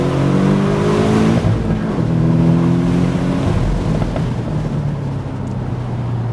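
A Porsche 718 Boxster GTS engine revs up loudly and steadily after a downshift to second gear, pitch climbing through the gear as it accelerates, close and continuous.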